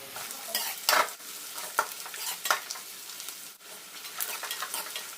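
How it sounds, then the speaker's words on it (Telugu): Fried peanuts go into lemon rice in a pan and get stirred through it: repeated scraping strokes of a spatula over a soft, continuous sizzle, with no one speaking. "పల్లీలు కూడా ఫ్రై చేసుకుని పెట్టుకున్నాం కదా, ఆ పల్లీలు దీంట్లోకి వేసుకోవాలి"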